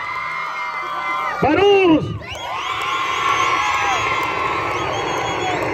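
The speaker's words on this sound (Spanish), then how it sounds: "puro aplauso y grito." Crowd at a jaripeo rodeo in San Nicolás, Villa Morelos, Michoacán, cheering, whooping and shouting loudly, with a burst of whistles and yells, then a sustained roar of voices; someone talks over the crowd.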